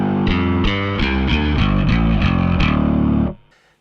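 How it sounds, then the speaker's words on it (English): A bass guitar tracked for metal runs through a distortion pedal, playing a chugging, rhythmic run of loud, gritty notes with a driving pulse before cutting off abruptly into near silence. "The distortion track I use to shape with an EQ where we have room for it once we get the guitars in there."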